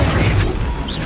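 An Incendio fire spell goes off in a Harry Potter video game, a short, dense blast of roaring burst and whoosh that stays loud and close for about a second, with no voices over it.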